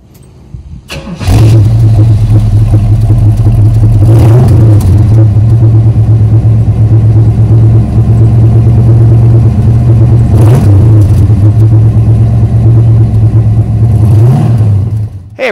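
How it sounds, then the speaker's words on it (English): A big 1971 Pontiac T-37 455 H.O. engine fires up loudly and settles into a deep, throbbing idle, with a few sharp revs blipped along the way. "this is my 1971 T-37."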